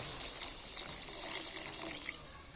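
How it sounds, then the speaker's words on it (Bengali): A little water is poured into a pan of chicken curry with peas, making a soft, close trickle and splash that runs for about two seconds and then stops, with no talking. "এখন এই পর্যায়ে দিয়ে দিব আমি অল্প জল অল্প জল দিয়ে"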